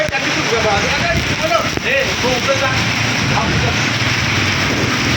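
A heavy wind and rain storm batters a flooded village, a loud, unbroken roar of rain and gusting air throughout, with voices talking faintly beneath it.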